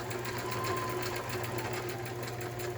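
A sewing machine stitches fabric scraps for a collage, running steadily with a fast, even mechanical whir and rapid needle chatter, close and continuous without pause.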